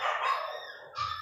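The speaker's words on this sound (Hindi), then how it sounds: "कुत्ते की पिल्ली दब गया किसी गाड़ी के नीचे।" A puppy that has just been run over by a vehicle, its legs crushed, whimpers and yelps in a high, strained cry, loud and close, fading briefly before a second burst of crying.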